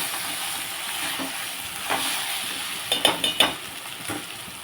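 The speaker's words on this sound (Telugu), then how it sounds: "ఇది బాగా వేగిపోతుంది ఉల్లిపాయ." Onions sizzling in a pan with ginger garlic paste for a drumstick curry, a steady close frying hiss broken by a few sharp clinks of a spoon stirring against the vessel.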